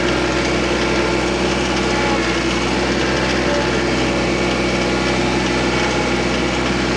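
TYM tractor engine running while carrying a log, a loud steady diesel drone with constant rumble and no pauses, close and continuous.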